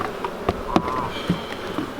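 Honey bees buzzing around an open hive during a hive split, a close, wavering hum with individual bees whizzing past in short bursts.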